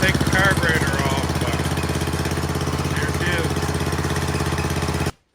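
A small snowblower engine, given away free and just revived after carburetor work, idles loud and close with a rapid, steady chugging putter and a slightly uneven, surging note, then cuts off abruptly near the end. Someone talks over it.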